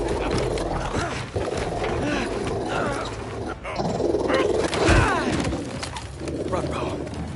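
Dog barking and growling during an attack in the Spider-Man 2 video game, mixed with busy game sound effects and a talking voice, the snarls rising and falling across the clip.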